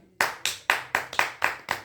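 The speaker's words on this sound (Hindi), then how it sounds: "ताली को कंजूसी नहीं करे" A small group of listeners at a talk by a 3D designer claps in unison, with seven or eight sharp, evenly spaced claps close by and no voices over them.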